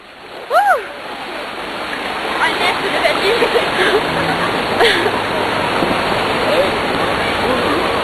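Rushing water splashes and churns continuously while people shout and talk over it; a loud burst of voices comes near the start.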